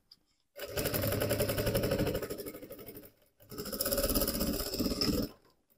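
Two sustained bursts of rapid, rattling sewing-machine stitching, close and fairly loud with a short pause between, as it sews through thick parts of a teddy bear backpack.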